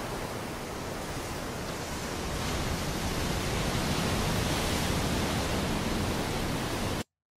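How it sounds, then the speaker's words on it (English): Ocean Waves channel streaming on an internet radio app: a steady, broadband wash of surf noise that swells slightly partway through, then cuts off abruptly, with no voices. "this will skip to the next channel, which is Ocean Waves."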